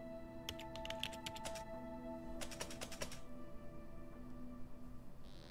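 Computer keyboard typing inside the video game There Is No Game, with two short bursts of rapid clicking keystrokes heard over a steady electronic background hum.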